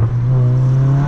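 Loud, close Audi A3 2.0 Stage 3 tuned engine holding a deep, steady rev with a strong low hum and rising buzz, brief and unbroken.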